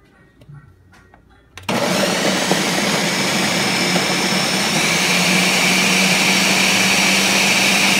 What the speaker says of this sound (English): we're just gonna mix all these together and put it in the blender